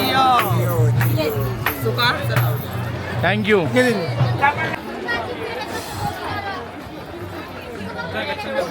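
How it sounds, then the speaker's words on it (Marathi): Crowd of devotees chattering at the Mandhardevi Kalubai temple, a dense close babble of many overlapping voices that runs throughout, with one nearby voice speaking clearly over the hubbub. "त्यामुळे गर्दी खूप आहे."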